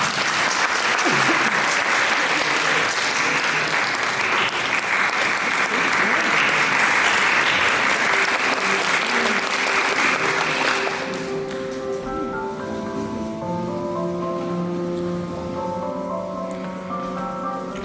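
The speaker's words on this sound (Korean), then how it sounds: "여러분 박수 부탁드리겠습니다." A crowd claps steadily for about eleven seconds at a wedding reception hall as the bride's father takes the stage, loud and dense, then the applause fades as soft background music continues.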